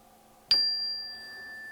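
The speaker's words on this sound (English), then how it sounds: "So on the chime, here we go." A single meditation chime is struck once to begin a breathing exercise, a clear bright ring that sounds near and then slowly fades while sustaining over quiet room tone.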